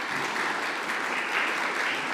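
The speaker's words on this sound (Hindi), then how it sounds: "ज़ोरदार ताली बजाइए" Loud, continuous applause from a crowd at a New Year gathering, steady and unbroken with no voices over it.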